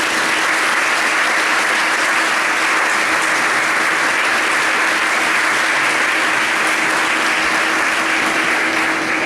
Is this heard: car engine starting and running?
no